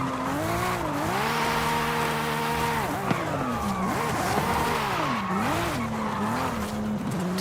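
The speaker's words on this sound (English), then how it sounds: "Let's start the drift." A car drifting in Forza Horizon 5, driven with a steering wheel on a volcano road, with a loud sustained engine whine rising and falling while tires squeal continuously through the slide.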